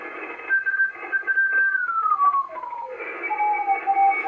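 Morse code CW tones on the 10 metre amateur radio band during a contest, a steady keyed tone that drifts downward in pitch midway, then settles lower, with a noisy hiss behind it.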